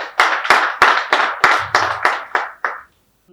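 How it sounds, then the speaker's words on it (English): An audience at a business fair claps in unison, about nine sharp, evenly spaced claps that fade slightly toward the end before stopping. "a round of applause for yourselves"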